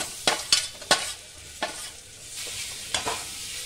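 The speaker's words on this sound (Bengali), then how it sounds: "দেখো হালকা এটা মিশিয়ে নিলাম।" Fried mushrooms are stirred into a butter sauce in a pan, each spoon stroke scraping sharply over a steady low sizzle, several strokes spaced irregularly and close up.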